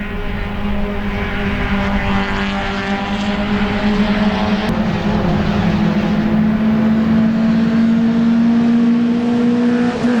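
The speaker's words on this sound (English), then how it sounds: "the entire field of 28 cars pours their way down into turn number 1 for the first time" A field of 28 Hyundai Excel Cup race cars pours down into turn one at CARCO.com.au Raceway, their engines merging into a loud, continuous roar with a rising droning pitch throughout.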